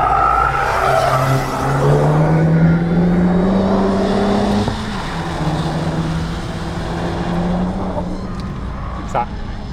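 Renault Megane RS Trophy R engine on a race track, loud revving that climbs in pitch then drops at a gear shift around the middle before building again, with tire noise and a voice talking over it.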